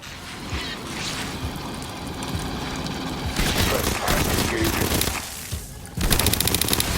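Deployed automated sentry guns in the video game Aliens: Fireteam Elite fire continuous loud bursts amid dense combat noise and explosions, the rattle growing sharper and more rapid toward the end.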